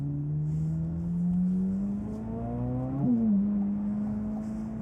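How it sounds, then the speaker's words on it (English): A Corvette Z06 V8 drives by with a smooth, steady engine drone. The pitch climbs gradually through a gear, drops sharply at a shift around three seconds, and carries on at a moderate level with no talking. "considering it's an American V8, it sounds like a European 12-cylinder"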